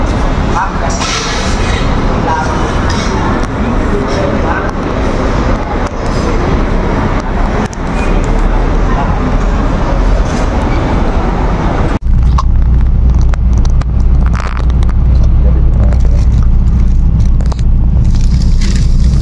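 Steady loud roar of road traffic and engines at the Bandar Tasik Selatan bus terminal, continuous for the whole stretch, with a deeper rumble coming in partway through.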